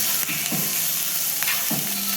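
Steady sizzling of vegetables sautéing in a frying pan, with a few soft scraping stirs, close and continuous without any talking.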